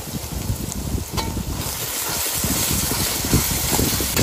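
Ground cumin and coriander paste sizzles in hot oil over fried garlic, ginger and onion, giving a steady, close crackling hiss with stirring scrapes and no talking.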